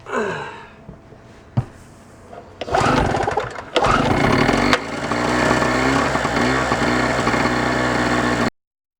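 Harbor Freight 800 watt two-stroke generator pulled to start, a few rough attempts before the small engine catches and runs with a steady buzzing drone, close and loud, then cuts off abruptly.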